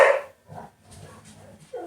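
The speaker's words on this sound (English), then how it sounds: "You'll hear my dogs now fighting. They're just playing in the other room." Dogs play in another room, giving a loud bark at the start followed by softer, muffled yips, scuffles and whimpers at a distance.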